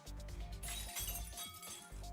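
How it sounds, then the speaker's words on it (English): In the Fate/stay night game, glass shatters over booming, dense background music, with bright crashing and tinkling fragments running through the loud, continuous mix and no talk. "I hear a glass shattering."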